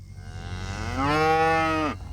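A cow on a drought-stricken Iowa farm outside Davenport lets out one long, loud moo close by, rising and holding before cutting off, with a low steady rumble of wind or machinery underneath.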